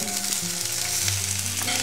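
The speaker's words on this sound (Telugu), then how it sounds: "బాగా హాట్ ప్యాన్లో కొంచెం వెల్లుల్లిపాయలు, కొంచెం ఉల్లిపాయలు" Garlic and onions fry in oil in a very hot iron skillet, giving a loud, continuous close sizzle with faint stirring scrapes and no talking.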